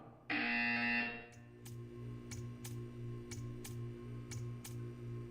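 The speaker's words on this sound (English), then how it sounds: "You will hear a buzzer." A loud harsh buzzer in the video game Portal 2 blares for about a second, followed by a steady hum and a series of sharp regular ticks.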